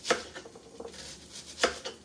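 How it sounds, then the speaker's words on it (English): A knife chops an onion on a cutting board in a home kitchen, a few sharp, close knocks spaced irregularly over faint background noise, with no one speaking. "I need to cut up my onion really quick"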